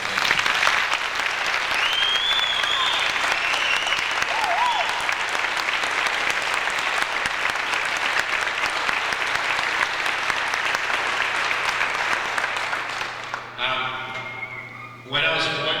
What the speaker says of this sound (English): I'd like to give them the biggest round of applause right now.